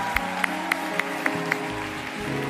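A church congregation gives a short round of acclaim to the Lord: sharp, evenly spaced claps ring out about six times over a sustained, droning musical backdrop.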